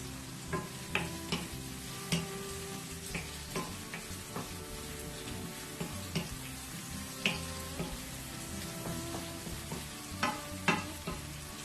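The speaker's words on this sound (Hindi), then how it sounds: "मैं इसमें 2 अदद दरमियानी साइज़ की प्याज चॉप इसमें डाल लेंगे" Two medium chopped onions fry in oil for a lamb balti gosht, giving a steady sizzle with repeated scrapes and clinks of a utensil stirring through the pan; close and alone, with no talk.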